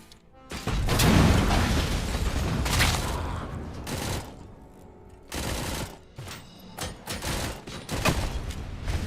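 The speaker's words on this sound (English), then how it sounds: "The grenade can be shot, but it's janky." A grenade is shot and explodes in the game RoboCop: Rogue City, producing loud, booming blasts and bursts of gunfire-like cracks that come in several heavy surges across the stretch.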